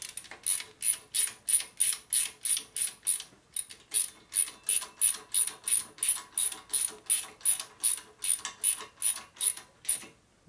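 A ratchet wrench tightens a part on the rigid wheel of a custom Harley bobber chopper, giving roughly twenty close, even clicking strokes with one short pause, alone and fairly quiet.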